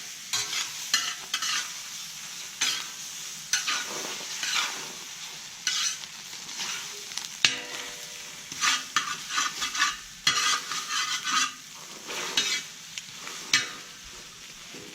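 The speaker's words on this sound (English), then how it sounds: "About 6 eggs, just like that. And we're gonna mix it all up," About six eggs being stirred and mixed in a hot pan for breakfast migas on a cooking disc, with a continuous close sizzle and busy, rhythmic scraping of the utensil.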